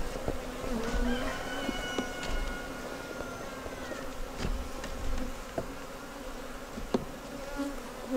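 Agitated honeybees buzz steadily around an opened hive on an off-grid homestead, a dense close hum with individual bees whining past, no smoke calming them.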